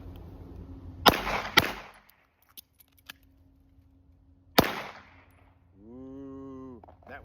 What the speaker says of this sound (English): Ooh, that was not a good shot.